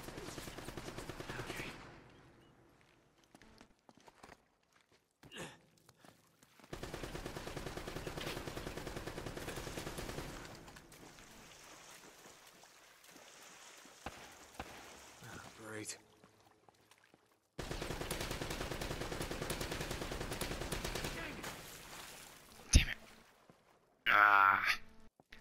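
Enemies fire at the player in Uncharted: Drake's Fortune, with rapid gunfire arriving in several sustained bursts separated by quieter stretches, while a player talks over the action.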